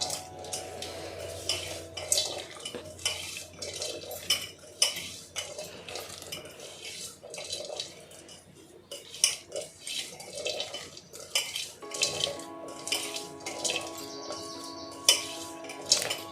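Salted bitter gourd slices being mixed by hand in a bowl, with soft continuous rustling and small clinking taps of a utensil against the bowl, quiet and close.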